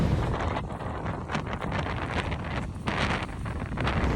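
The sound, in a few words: strong wind on the beach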